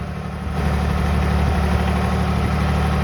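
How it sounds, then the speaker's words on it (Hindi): A tractor engine pulling a stuck Brezza car, a loud, steady low engine drone that swells after a moment and holds its throaty rumble, close and continuous without talk. "ट्रैक्टर खींच के ला रहा है।"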